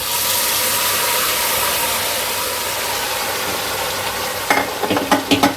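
Boiled chicken and potatoes fry in a pan with a continuous close sizzle, then a run of sharp clinks and scrapes as a spatula stirs them near the end.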